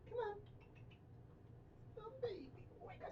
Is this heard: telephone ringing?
no